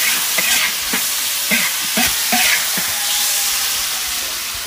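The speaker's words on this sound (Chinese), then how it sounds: "用这个木耳炒肉" Pork slices and wood ear mushrooms stir-frying in a wok, a steady hot sizzle broken by several scraping stirs of the spatula, close and fairly loud, with no talking.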